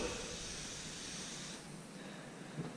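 An airbrush sprays paint with a steady, close hiss of air that drops off partway through, leaving faint background noise and a small tap.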